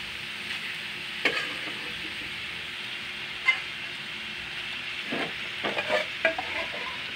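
Boiled duck, first simmered with ginger, sautés in a pan with a steady broadband sizzle, punctuated by several sharp scrapes and clacks of a utensil stirring against the metal, close and moderately loud with no talk.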